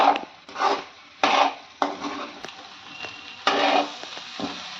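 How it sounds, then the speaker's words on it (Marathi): Egg bhurji being stirred and sautéed in oil in a pan, with repeated scraping, rasping strokes of a spoon against the pan over a soft sizzle, about six bursts in an uneven rhythm, close and fairly quiet. "त्याला तेल सुटेपर्यंत ही भुर्जी चांगली परतवून घेते."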